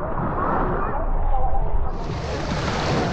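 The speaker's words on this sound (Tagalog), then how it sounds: "Jack playing in the wave pool." Broadband wash of waves and splashing water in a wave pool at a waterpark, steady and close, with a slight surge midway as the wash brightens.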